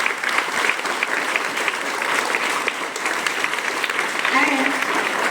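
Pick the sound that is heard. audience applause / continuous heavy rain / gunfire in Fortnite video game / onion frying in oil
audience applause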